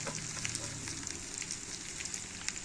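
Chicken sizzles steadily in a hot pan with sauce, a dense, close frying crackle with small pops throughout and no voices.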